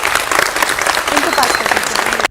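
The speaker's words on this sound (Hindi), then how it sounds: "तालियों की गड़गड़ाहट रुकी नहीं" An audience bursts into loud, sustained applause, dense rapid clapping that fills the room for a couple of seconds before cutting off abruptly.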